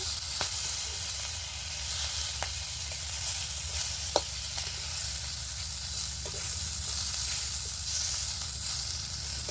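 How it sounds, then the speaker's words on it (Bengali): Magur catfish fries lightly in oil with ginger and cumin paste, giving a constant dense sizzle with a few sharp pops and stirring clicks, close and unbroken. "মাগুর মাছের তেল, আদা বাটা জিরে বাটা দিয়ে একটু ভেজে নেব।"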